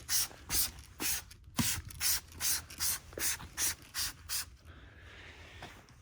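A pressure washer sprays a Silverado pickup truck. Close, regular hissing pulses come about twice a second as the jet sweeps back and forth, then settle into a steadier, softer spray.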